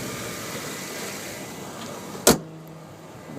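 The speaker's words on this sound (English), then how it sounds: "The hood closed with authority." The hood of a 2010 Nissan 370Z Touring coupe slams shut once, a single loud, sharp thump partway through over steady background noise, followed by a brief low ringing.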